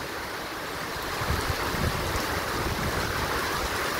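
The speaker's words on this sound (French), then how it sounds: "Ça pleut en travers en plus." Heavy rain driven sideways by wind during a moderate thunderstorm: a steady, dense roar of downpour with gusty buffeting that swells slightly after the first second and holds on, with no voices.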